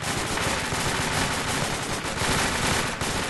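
Heavy, continuous gunfire in Arma 2, a dense wall of overlapping machine-gun bursts and rifle shots that stays loud and unbroken throughout with no talking.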